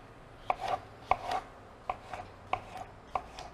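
A knife slices through chicken breast on a cutting board, about six distinct strokes, each a sharp tap against the board followed by a short drawn cut. The strokes are close and clear, with no talk.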